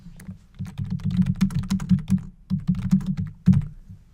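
Rapid typing on a computer keyboard, with dense, uneven bursts of clicks and brief pauses, close and alone without talk.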